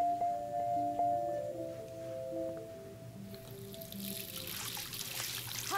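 Water runs and trickles from a shower in the Life is Strange video game, a soft steady splashing under a faint low tone that grows brighter and hissier toward the end, with no voices.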